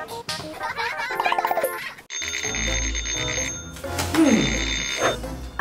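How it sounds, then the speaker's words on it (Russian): A telephone rings with a loud, shrill electronic trill in repeated bursts, set against a busy cartoon-style musical backdrop in a children's animated story. "Телефон? Кто мне может звонить сейчас?"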